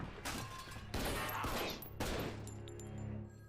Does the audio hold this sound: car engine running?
no